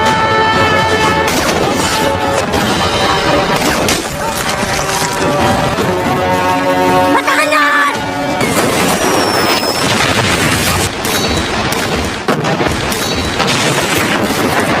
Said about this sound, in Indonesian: Dari sini Zarin mulai membidik dan menghabisi para sniper musuh.